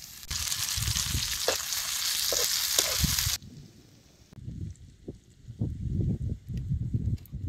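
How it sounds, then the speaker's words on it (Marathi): Chopped onions and green chillies fry in oil on a wood-fired clay stove in an open green field. A loud, dense sizzle cuts off abruptly, then quieter crackling and soft thumps of stirring follow. "आता हे कांदा बघितला का लगेच तेलात कसं भाजत आलाय."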